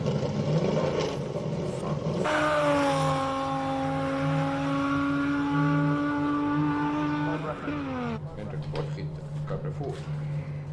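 A classic BMW 325is race car on a hillclimb course, its engine holding a loud sustained drone that shifts pitch and then drops away near the end, with a commentator talking over it.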